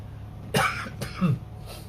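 Two or three short, dry coughs from a woman close to the microphone, separated by brief pauses, with no talking.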